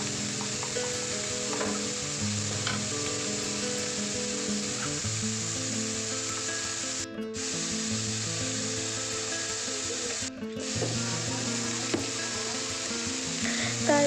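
Paste of onion, garlic and ginger sizzles and fries steadily in a pan for a fish curry, with a continuous close crackle and occasional stirring scrapes, no voices.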